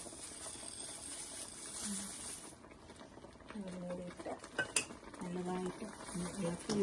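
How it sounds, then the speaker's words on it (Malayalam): Flattened rice (aval) is stirred into thick jaggery syrup with banana in a pan, a spoon scraping and clinking against the metal in uneven strokes under a voice talking. "നല്ലതായിട്ട് ഇളക്കി യോജിപ്പിക്കുക."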